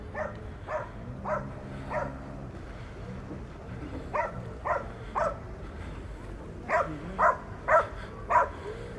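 Dogs bark in short repeated bursts at a dog beach in Palmanova, Mallorca. The barks come in irregular clusters at moderate distance and grow louder toward the end, over faint background voices.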